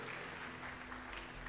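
A church congregation clapping during a worship service, producing a steady, dense wash of applause that stays constant and fairly faint throughout.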